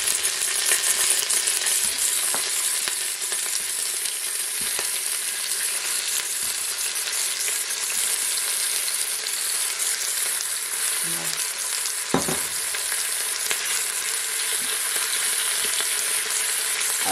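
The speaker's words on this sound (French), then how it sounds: "déjà on peut mettre la viande. Alors ça va faire du bruit" Beef frying loudly in a hot pot, a dense steady sizzle and crackle with occasional stirring knocks, close up and continuous.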